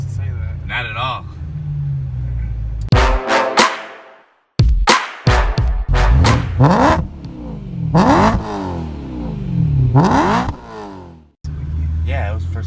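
A supercharged BMW M3 engine revs hard and accelerates in loud repeated surges heard from inside the car, with sharp cuts between pulls.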